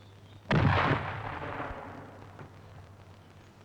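A Losfeld multipurpose rifle grenade fires and bursts in the air, one sharp heavy blast with a booming low end, then a long rumbling decay and a faint late thud, no voices.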